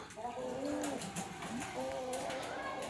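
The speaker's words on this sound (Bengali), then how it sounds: "অবিশ্বাস্য তিন সাড়ে তিন ঘন্টার একটা কবুতর দেখাচ্ছে আপনাদেরকে" A big-feathered local high-flyer pigeon in Rajshahi, cooing in soft, repeated rolling calls close by while someone talks over it.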